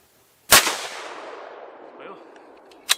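A single loud Bergara MGLite 6.5 Creedmoor rifle shot firing Hornady 120 grain ammunition, a sharp crack followed by a long rolling decay, with a faint thump and another sharp report starting near the end.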